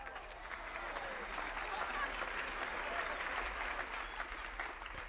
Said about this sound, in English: Let's give a big round of applause to Bobby Bear Jr.